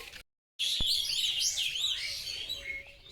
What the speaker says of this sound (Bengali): চারিপাশে পাখির কিচির মিচির ডাক